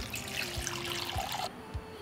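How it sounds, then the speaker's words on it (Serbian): Warm water pours steadily from a tap into a cooking pot holding glass jars set on a cloth. It runs as a continuous rushing stream for about a second and a half, then stops abruptly, with a few soft low thuds underneath. "Nalit ću s toplom vodom do visine poklopca."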